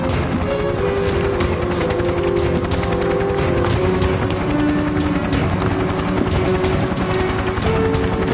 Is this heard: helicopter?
yes